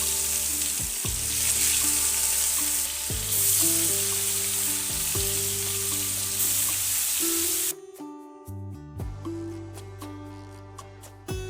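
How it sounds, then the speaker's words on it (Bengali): Fish rubbed with salt and turmeric fries in mustard oil in a wok, giving a loud, steady close sizzle with a tonal hum underneath; near the end the hiss thins out and gives way to sparser crackles and spits. "এরপর মাছগুলোকে ভেজে নেব।"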